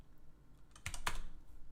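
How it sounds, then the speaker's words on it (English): Keys tapped on a computer keyboard while guessing letters in a game of Hangman, a short quiet stretch followed by two sharp clustered clicks close by, with no talking. "going through every letter on my keyboard now."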